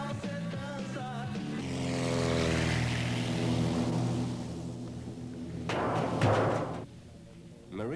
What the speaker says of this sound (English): The only way in is by light planes which land on the main street of the town.